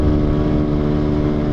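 Motorcycle engine held at maximum power during a night ride, a loud steady drone with dense low harmonics and constant wind rush, close and unbroken throughout.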